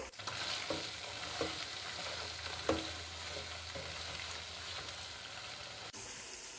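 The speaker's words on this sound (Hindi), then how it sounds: "अब हम इसमें 2 चम्मच लहसुन अदरक का पेस्ट शामिल करेंगे। 3 से 4 मिनट फ्राई करेंगे।" Chicken with garlic ginger paste sizzles and fries steadily in a hot pan, with occasional scrapes and stirring knocks; no talking.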